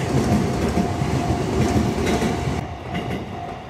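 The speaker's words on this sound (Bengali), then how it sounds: "চলো ভাই, ট্রেন চলে গেছে, এখন উঠে যাবে এটা।" A train passes close by at an automatic level crossing in Japan, with loud rolling rumble and rhythmic wheel clatter that thins out near the end.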